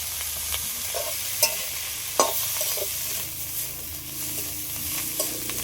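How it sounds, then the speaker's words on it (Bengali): Prawns with chopped coriander, turmeric and salt fry in a pan with steady low sizzling, broken by a few sharp stirring scrapes and knocks; no one speaks. "সবগুলো তো একসাথে ভালো করে ভেজে নিয়েছি"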